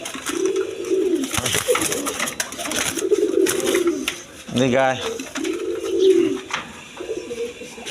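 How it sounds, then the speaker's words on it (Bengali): Kaldom pigeons, a paired male and female, give three rounded, rolling coos at fairly even intervals, close and clear. A voice speaks briefly in between, and rustling and knocks fill the gaps. "এখানে আরেক পেয়ার কালদম কবুতর আছে"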